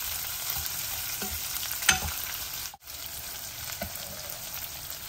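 Turmeric sizzles in hot oil in a pan as a spoon stirs it, giving a soft steady frying crackle broken by a few scraping strokes.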